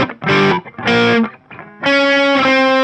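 A heavily distorted electric guitar plays a riff using up-picks, with three loud, chunky chord stabs, the last one ringing out longer. Up close, with no speech.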